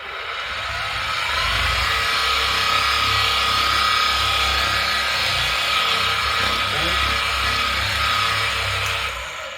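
Rotary polisher running steadily at low speed while spreading polish across a car panel during pad priming, a continuous broadband whir with a low motor hum, loud and close throughout.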